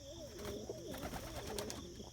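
White racing pigeons coo in their loft, giving soft, repeated, warbling calls close by under a steady background hum.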